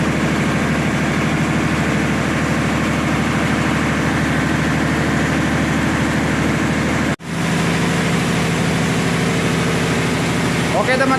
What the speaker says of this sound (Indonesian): Jadi kita menunggu genset ini warming up dulu kurang lebih 30 menit.